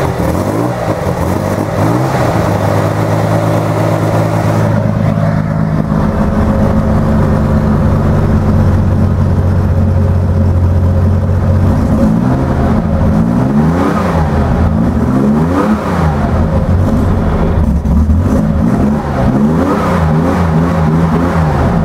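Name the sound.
Chevrolet Corvair engine cold cranking and revving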